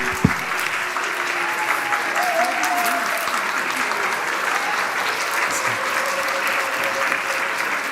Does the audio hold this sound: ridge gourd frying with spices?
no